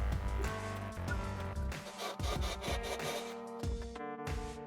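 Abrasive sanding against a wooden knob spinning on a lathe, a continuous scratchy whir with a steady tone that shifts as pressure changes.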